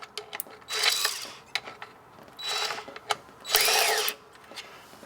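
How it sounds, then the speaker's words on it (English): A cordless power drill at a low clutch setting snugs up screws on a Sta-Rite spa pump during a seal replacement, giving three close whirring bursts that rise and then ratchet, with short clicks in the gaps. "I'm even going to turn my drill down to about 3 or 4 or 5 where it doesn't jam it."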